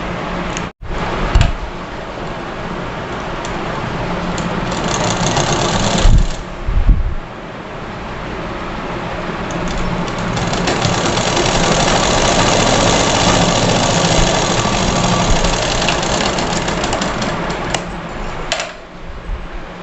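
A sewing machine stitching a girl's frock runs in a loud, close, continuous whirring drone, with brief pauses and knocks early on before settling into a long steady run.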